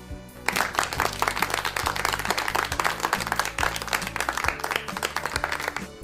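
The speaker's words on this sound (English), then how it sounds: "Clap your hands, kids!" Children clap their hands during a school radio English lesson, a run of sharp, rhythmic claps over a looping musical backing with a steady beat, and no one speaks over them.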